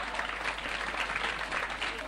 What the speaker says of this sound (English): A round of applause for the woman behind this great man.